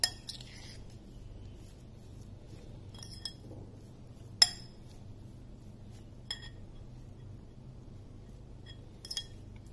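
A spoon clinks against a bowl while potato sandwich filling is mixed, a few scattered, light metallic taps spaced several seconds apart over quiet room hiss.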